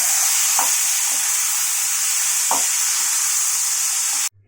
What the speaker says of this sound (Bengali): মশলাগুলো নেড়ে চেড়ে এবার কচু শাকটা দিয়ে দেবো, সেদ্ধ করা কচু শাকটা দিয়ে দেবো। একটু নেড়ে চেড়ে চাপা দিয়ে দেবো।